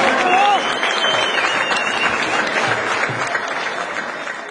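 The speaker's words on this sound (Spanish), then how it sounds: "Un aplauso para Jorge Venegas." An audience at a radio station's 15th-anniversary event applauds steadily, the clapping loud at first and then slowly fading.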